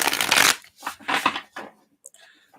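Tarot reading cards get a quick shuffle: a loud riffling burst at close range, then a couple more softer flurries that fade into a few small taps and rustles.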